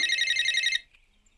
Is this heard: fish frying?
no